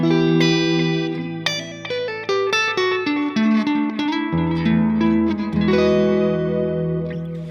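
Electric guitar notes and chords ring out through a Strymon analog delay pedal with its bucket loss knob at minimum, repeats trailing behind each note with a slightly murky, warm tail.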